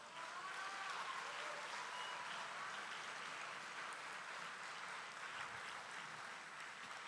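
An auditorium audience at a convocation ceremony applauds the graduating class, a dense, even wash of clapping that holds steady throughout, fairly faint and without voices over it.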